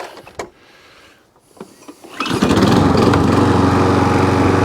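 A Viking lawn mower engine kicks in after a few quiet clicks and runs loud and steady, a constant mechanical drone close by, with a drive fault causing hunting noise.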